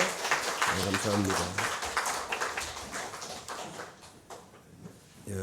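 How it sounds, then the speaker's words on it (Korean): A church congregation gives a sustained round of applause in praise of God during Sunday morning worship, a dense wash of many hands that fades toward the end, with voices talking over it. "우리 하나님께 다시 한번 영광의 박수 올려드립니다."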